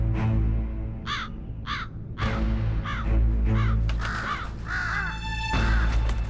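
Crows cawing near a large predator around slash-and-burn farmland, several harsh caws in short bursts, some near and some farther off, over a low rumbling background.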